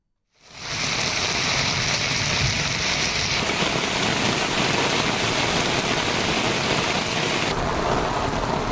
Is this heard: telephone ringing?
no